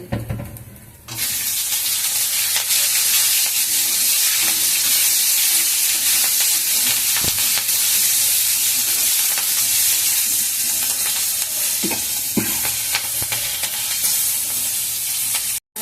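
Green chilies and ginger sizzle in hot frying oil while a Bengali vegetable curry with soybean chunks is being cooked, a steady loud crackling hiss that runs continuously with a few sharper pops and no talking.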